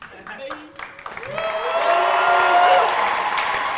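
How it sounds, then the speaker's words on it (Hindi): Studio audience applauding on a comedy talk show, clapping that rises and swells into steady, fairly loud applause after a few seconds of mixed voices and noise at the start. "आप लोग तालियां बजा रहे हैं"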